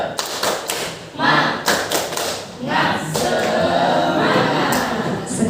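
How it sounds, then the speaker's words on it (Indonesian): A teachers' group session joins in a rhythmic spirit-clap cheer, with loud bursts of hand claps and thumps in a patterned beat. The bursts run into a sustained stretch of clapping and crowd noise, with voices mixed in. "Coba kita tepuk semangat dulu ya"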